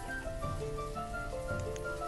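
Steady rain falling in the town-building video game Banished, a continuous dense patter with faint scattered tonal game sounds mixed in.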